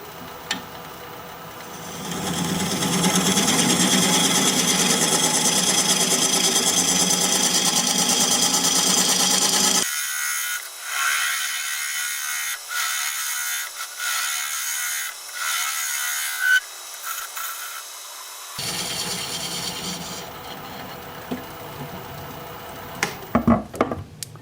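Very hard wood spins on a lathe while a tool cuts a large recess, giving a loud, steady scraping hiss that drops to lighter intermittent scratching and ticks before the spinning noise returns.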